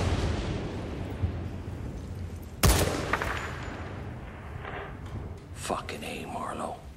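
Gunfire from the video game Battlefield Bad Company 2: one sharp, loud shot rings out midway over a low background rumble, followed by fainter scattered cracks and hushed voices.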